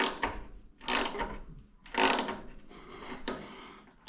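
A ratchet unscrews a fitting while installing an AirDog 150 fuel pump on a 2nd Gen Cummins, heard as four bursts of clicking pawl strokes with short pauses between, close and moderately loud, no talking.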